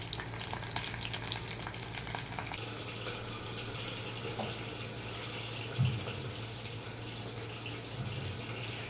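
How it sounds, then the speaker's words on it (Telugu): Egg curry frying gently in a pan, a steady soft sizzle running throughout at low level, with faint clinks and a small bump near the end. "ఇక్కడ ఇది కొద్దిగా వేగుతుంది."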